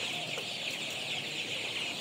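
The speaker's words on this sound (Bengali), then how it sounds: "এ হচ্ছে আমার কালারবাট মুরগিগুলো।" Colour bat chickens, 21-day-old Paragon company chicks, cluck and cheep together as a steady, faint flock murmur with no talk.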